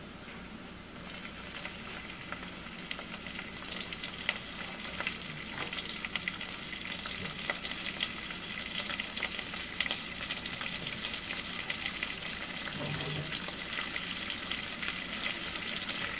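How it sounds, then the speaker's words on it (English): Baby shrimp frying in a pan with onions already browned, a dense, even hiss of sizzling oil that runs without a break, close and steady, with no talking. "So now I will add the baby shrimps."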